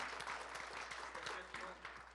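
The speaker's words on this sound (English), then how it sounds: "So give yourself a round of applause." An audience at a Richmond fire department promotion ceremony claps, a faint, distant, continuous patter of applause that holds steady for a couple of seconds.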